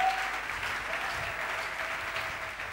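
A church congregation applauds, with a steady wash of clapping from many hands that carries evenly through the short stretch at moderate distance.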